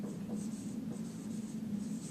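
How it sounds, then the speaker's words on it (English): Steady pen-on-paper writing in a classroom setting, continuous soft scratching strokes heard up close and on its own with no talk. "So they would write in here,"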